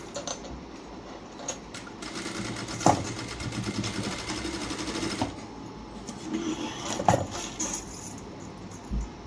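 A sewing machine stitches a blouse in quiet, rapid mechanical runs with brief pauses and handling clicks between bursts, heard close with no talking.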